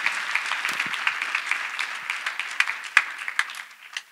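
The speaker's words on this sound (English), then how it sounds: "Clap for Master Jesus." Applause from a church congregation at a testimony service celebrating a baby's birth, a dense steady patter of clapping with a few sharper individual claps standing out, fading toward the end.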